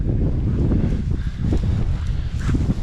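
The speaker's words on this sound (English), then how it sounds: "It's still really windy" Strong wind blowing across open South Dakota fields during a pheasant hunt, a loud continuous rumbling buffet against the microphone, steady throughout with faint rustling beneath.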